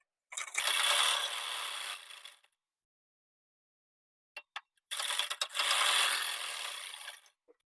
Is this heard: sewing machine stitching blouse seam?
yes